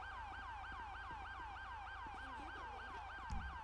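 An ambulance siren in GTA 5 wails in a fast, steady up-and-down cycle, loud and continuous throughout, with a brief thump near the end and no talk.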